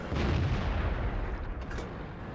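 A T-34-85 Rudy tier 6 Soviet premium medium tank in a tank video game fires its cannon, a heavy booming blast with a rumbling tail that fades gradually, with no talk over it.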